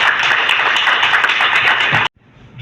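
A crowd at an official event during a Burkinabe ministerial tour claps steadily and loudly for about two seconds, then the applause cuts off abruptly into near silence.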